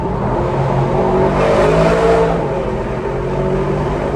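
Aston Martin DBX 707 SUV engine revving hard up to its limiter inside a tunnel, a loud sustained roar echoing throughout with a brief peak midway, no talk.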